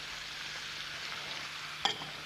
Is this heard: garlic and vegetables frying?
yes